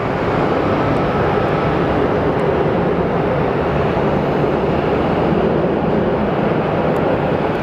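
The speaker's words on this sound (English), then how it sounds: "Sounded like some planes have been taken off" Airplanes taking off at Sky Harbor Airport make a broad, steady roar that holds at a constant loud level throughout, with no talk over it.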